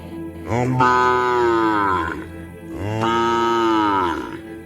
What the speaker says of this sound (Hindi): वो फिर से रंभाने लगती है